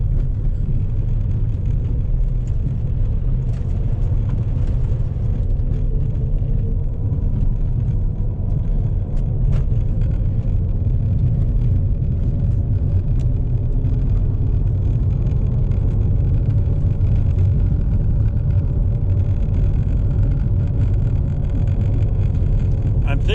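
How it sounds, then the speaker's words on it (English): A car with a howling noise from the rear, droning like a lawnmower engine, runs steadily throughout as a continuous low rumble with a faint whine layered over it. "we can hear there's a little bit of a howl on there, and sounds like that I got a lawnmower engine in the back of the car."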